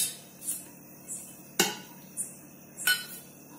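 A spoon mixes ghee rice with coriander in a pot, making a few sparse, soft scrapes and two sharper metallic clinks, close by and otherwise quiet.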